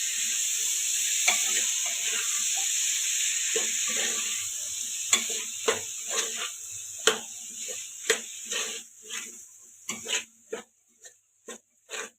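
Carrots, green beans and tomatoes being stirred together in a pan of spiced oil for vegetable pulao, a steady sizzle broken by a series of scraping, clacking spoon strokes that grow sharper and more spaced toward the end.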